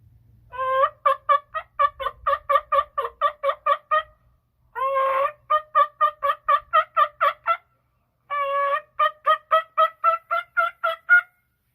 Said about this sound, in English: it's kind of really raspy, like an older bird yelp